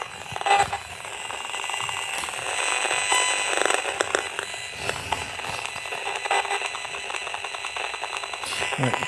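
Radio frequency meter beeping while measuring signals in a bedroom, rapid electronic chirps and tones repeating over several seconds amid background hiss.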